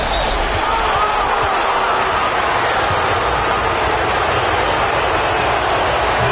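An arena crowd cheers in the NBA 2K25 basketball game, Mavericks against Jazz in the playoffs, as a loud, continuous roar with a few sharp thuds like ball bounces mixed in.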